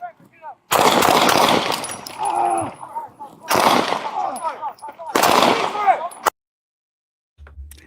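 Gunfire from a played recording, a few loud bursts of rapid shots separated by pauses, with voices shouting over them, then an abrupt cut to silence.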